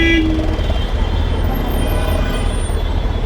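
Dense road traffic surrounds a Suzuki Hayabusa motorcycle: a loud, steady roar of engines with a brief horn toot at the start, and a voice talking over it.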